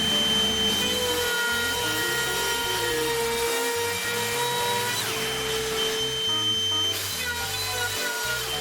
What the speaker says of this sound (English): Checking that I do indeed have the correct depth before routing all the way